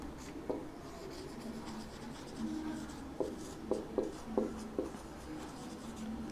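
Pen or chalk writing out properties of an image formed by a spherical mirror during a physics lesson, soft rubbing strokes with several sharper taps clustered toward the end, faint and close.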